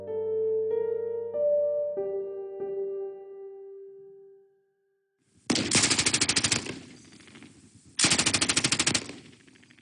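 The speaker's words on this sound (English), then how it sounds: "This gunfire is from a Facebook post Scott made in 2009." After a few sustained electronic musical notes and a pause, two loud bursts of rapid automatic gunfire rattle off, each lasting about a second.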